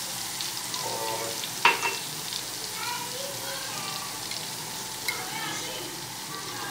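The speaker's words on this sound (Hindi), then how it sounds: "ये देखेंगे इसको चम्मच की मदद से इसको मिक्स करते रहें" Kadhi being stirred with a spoon in a pot on the stove, a steady soft bubbling sizzle with an occasional faint spoon knock against the pot.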